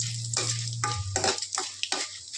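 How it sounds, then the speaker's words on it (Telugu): Curry leaves drop into hot oil for tempering, crackling and sizzling in short bursts with a low steady hum beneath, close and without talk. "కొద్దిగా కరివేపాకు వేస్తున్నాం"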